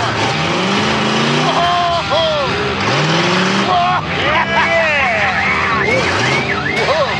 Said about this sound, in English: The car is running perfectly.